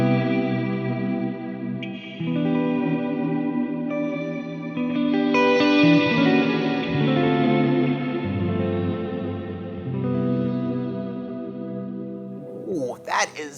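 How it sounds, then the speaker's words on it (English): Guitar played through a Neunaber Immerse reverberator set to hall reverb with modulation shimmer: sustained chords ringing into a wide, washy, chorus-like tail, full and loud, with a short pluck near the end and no talk. "when you add a nice little hall reverb into that tone, your guitar just comes alive again"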